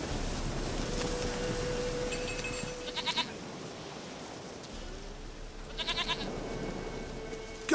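Goat bleating in The Witcher 3 video game: two short, wavering bleats a few seconds apart over a steady soft outdoor hiss, with no talk.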